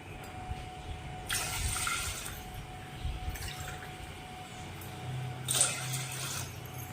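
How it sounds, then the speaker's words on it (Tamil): Water poured into a cooking pot for drumstick leaf soup, heard as a few short splashing bursts close by against a quiet kitchen background, with no speech. "ஒரு பாத்திரத்தில் 3 டம்ளர் தண்ணி ஊற்றிக்குங்க."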